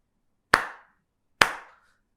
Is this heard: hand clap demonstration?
yes